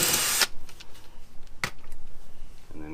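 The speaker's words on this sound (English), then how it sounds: "So we just go in with our drill bit, do a nice little pilot hole" A power drill bores a short pilot hole for a self-tapping screw. It gives one loud burst of drilling at the start, then a few brief, quieter bursts.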